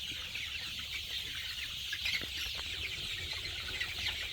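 Poultry chickens cluck softly and steadily as they drink water dosed with Lasota vaccine. The clucking runs over a faint, continuous background hum.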